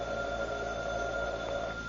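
A telephone rings with a steady sustained tone in an old-time radio crime drama, heard alone over a band-limited, hissy recording.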